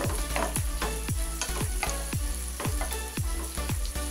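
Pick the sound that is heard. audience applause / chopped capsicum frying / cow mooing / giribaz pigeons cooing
chopped capsicum frying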